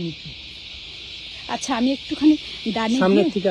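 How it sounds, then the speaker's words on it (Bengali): A steady, shrill chorus of crickets drones throughout on a hilltop in Australia, with someone speaking over it partway through. "দেখেছেন ঝিঝি পোকার ডাক কত"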